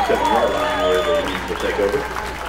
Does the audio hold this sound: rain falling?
no